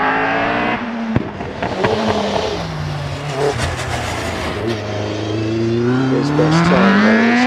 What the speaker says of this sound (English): We have Jonathan Evans sat on the hill now in the Pilbeam MP88 in the 1600 to 2 litre racing car category